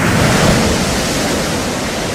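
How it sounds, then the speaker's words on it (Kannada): Heavy sea waves pound the Karnataka coastline during stormy weather, a loud, continuous roaring wash of surf with no voices over it. "ಭಾರೀ ಗಾತ್ರದ ಅಲೆಗಳೇ ದಡಕ್ಕೆ ಬಂದಪ್ಪಳಿಸ್ತಾ ಇವೆ"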